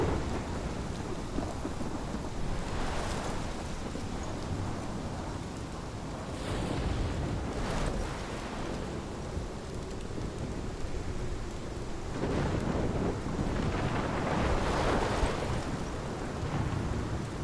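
Steady rain and rolling thunder from a storm in the video game Life is Strange, with heavy continuous downpour and several loud thunder rumbles building and swelling throughout, no voices.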